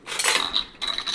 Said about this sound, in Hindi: चिया सीड पीने के बाद मैं अपने पूजा के बर्तन साफ़ कर लेती हूँ।